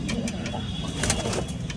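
Pigeons in a small backyard loft give low, continuous rumbling coos that sit close and steady throughout, with faint chirps above.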